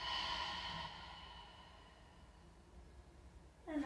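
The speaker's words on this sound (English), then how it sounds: "Take a deep breath in." A deep breath drawn in during a guided yoga session, a soft airy rush that starts fairly loud and fades over a few seconds, followed by quiet and a brief louder rustle at the end.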